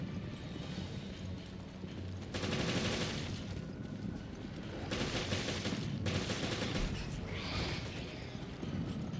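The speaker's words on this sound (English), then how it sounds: "I'll run around with more SMG." Submachine gun fire in the video game Resident Evil Revelations, with several sustained bursts of rapid automatic shots over a low game-ambience background.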